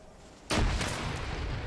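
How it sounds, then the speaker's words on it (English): A grenade blast in a police-versus-terrorists tactical shooter game hits suddenly, followed by a rumbling tail of gunfire and debris, fairly distant and without talk. "Grenades being thrown outside the building"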